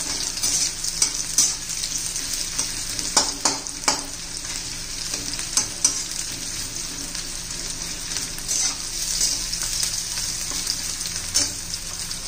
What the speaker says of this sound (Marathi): उभा चिरलेला कांदा आहे. कांद्याचा कच्चेपणा जाईपर्यंत आपण परतून घेणार आहोत.